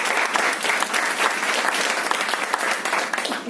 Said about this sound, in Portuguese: Uma salva de palmas para a professora Lara Botatinho.